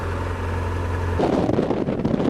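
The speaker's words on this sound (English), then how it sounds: "It's very windy out here." Steady low rumble of wind buffeting the microphone on open farmland, growing gustier and more turbulent partway through, with no voices.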